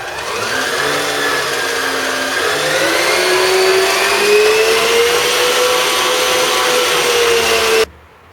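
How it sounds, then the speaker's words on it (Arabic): An electric whisk beats eggs and sugar for a genoise, a loud, close motor whine with a tone that rises gradually as the batter thickens, then cuts off abruptly near the end. "نخفق الآن"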